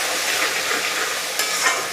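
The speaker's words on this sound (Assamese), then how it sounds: "এতিয়া মই বনাই থোৱা পেষ্টটো ইয়াতে দি দিছোঁ" Spice paste fries in hot oil in a pan for a fish curry, giving a dense, even hiss close by with a faint scrape partway through and no voices.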